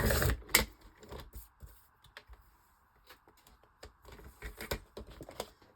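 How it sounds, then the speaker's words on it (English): Paper for a junk journal is cut on a cutting board, heard as scattered close, sharp clicks and taps in short bursts with quiet gaps between. "And getting my cutting board, and see if I can cut a bit off."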